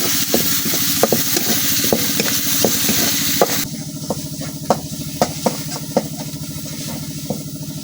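Loud sizzling of onion and ginger-garlic paste frying in a pan, with repeated sharp scraping taps of a spatula stirring, then the hiss softens.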